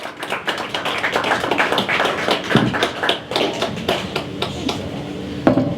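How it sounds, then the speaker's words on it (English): A stand-up comedy audience applauds as the next comedian comes on, a steady patter of clapping from a small crowd, close and fairly loud, with no talking. "Round of applause for George, everybody."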